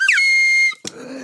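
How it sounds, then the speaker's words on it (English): A slide whistle swoops upward and then holds a steady, piercing note for about half a second before cutting off, leaving a short burst of rustling noise. "Is this slide whistle going to be annoying or is it going to be great?"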